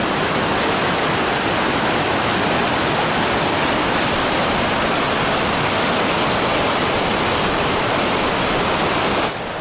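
A big river rushing through a gorge on the Timberline Trail, a loud, steady, broadband roar of whitewater heard close and unbroken, with no voices.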